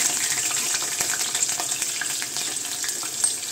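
Green chillies frying in a few teaspoons of hot oil for lemon rice give a steady, close, crackling sizzle with small pops and no one talking.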